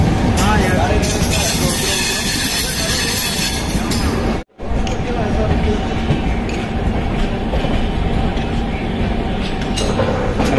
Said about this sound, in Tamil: தூரத்துல தெரியுது பாத்தீங்களா, அதாங்க இஎம்யூ.